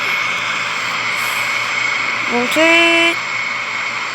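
A fixed-wing aircraft's engine runs at full takeoff power in a ditching-after-takeoff scenario, a steady loud drone with a brief rising tonal sweep midway and a voice calling out over it.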